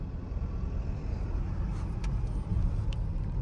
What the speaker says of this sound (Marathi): गाईस गाडी चालवायला एवढी मजा येते ना इथे